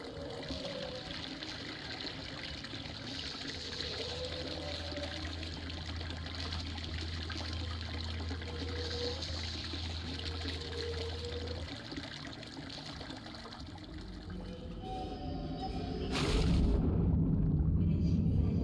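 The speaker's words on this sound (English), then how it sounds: "Or the room is filling up with water." Water pouring and trickling as a room fills up in the video game Devotion, a steady rushing flow throughout that grows louder and broader near the end, with faint game sounds beneath.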